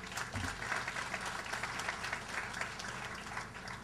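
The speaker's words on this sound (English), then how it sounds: "So please give a big applause for" Steady audience applause fills the room at a formal gathering, a dense, even wash of many hands clapping close and loud throughout, with no voices above it.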